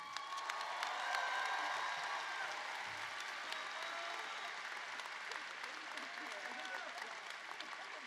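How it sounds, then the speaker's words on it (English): Steady, sustained applause from a graduation ceremony audience at a community college, a dense wash of many hands clapping that fills the hall without a break. "that was Miss Erin Brown, and let's give Erin another round of applause"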